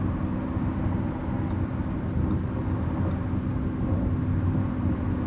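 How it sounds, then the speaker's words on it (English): A 2025 Lamborghini Revuelto, a 1,001 hp V12, cruises at highway speed at night, giving a steady, broad roar of tire and road noise inside the cabin with no voices. "any car like this is gonna have some highway noise"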